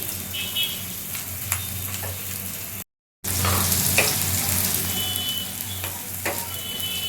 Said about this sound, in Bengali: পেঁয়াজটা আমি ভালো করে ভেজে নেবো যতক্ষণ না একটু লাল হচ্ছে